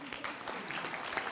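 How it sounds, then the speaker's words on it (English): Brief applause from a keynote audience, scattered hand claps at moderate distance, fairly soft and continuous for about a second and a half. "I think that's worth a round of applause."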